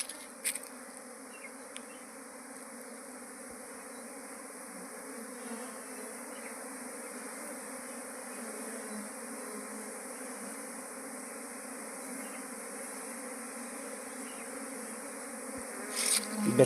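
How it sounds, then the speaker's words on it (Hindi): A honeybee swarm circles and settles among hive boxes, producing a dense, steady buzz that fills the whole stretch and swells slightly near the end, with no talking. "ये मधुमक्खियाँ बैठ गई रे दूसरे दूसरे बॉक्स में बैठ गई"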